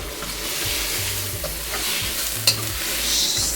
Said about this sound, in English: sauteed in garlic butter